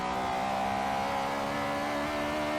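A K20-swapped Honda Integra engine in Forza Horizon 3 drones at steady high revs with a strong harmonic tone, loud and continuous with no talking, holding pitch throughout rather than audibly shifting.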